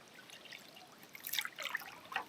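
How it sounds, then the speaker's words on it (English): Water swishes and trickles in a few soft bursts, a square-edged canoe paddle pulling noisily through a lake and dripping, fairly faint and close. "It's a little bit noisy. It's a noisy paddle."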